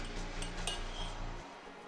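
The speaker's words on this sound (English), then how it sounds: "Add the mushrooms and onions and stir those together with the pasta." Pasta being stirred together with mushrooms and onions in a bowl, giving a run of soft, regular clinks and scrapes of a utensil against the dish, close by, with no talking.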